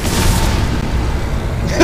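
A laser beam spell fired in the Magicka video game, a loud, steady low rumbling boom that drones continuously, ending in a brief brighter burst.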